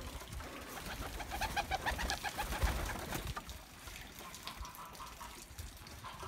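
Pigeons coo repeatedly at close range in a loft outdoors on a cold, wet day of melting snow. The soft rhythmic calls overlap over a low background murmur.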